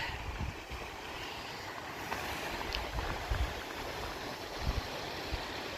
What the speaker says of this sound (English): this is the creek. Not sure if it's Forsee Creek or not, but well, it's very nice. Clear flowing water.